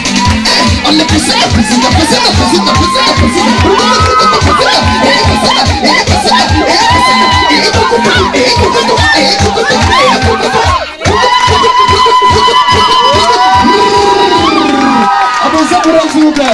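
Lively crowd at an Africa Color dance show in a café in Aubervilliers, cheering, whooping and clapping loudly under driving rhythmic music, with shouts and babble throughout and a brief dip near the end.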